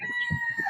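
A rooster crows nearby, a sustained raspy call running through the clip alongside soft clucking from other fowl.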